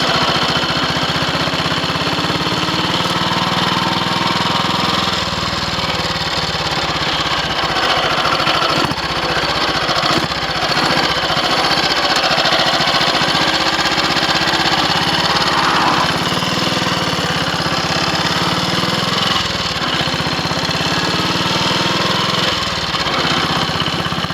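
Ariel 500 motorcycle engine running on a test ride after recommissioning, a loud, continuous, close throbbing drone with slight shifts in pitch, no talking.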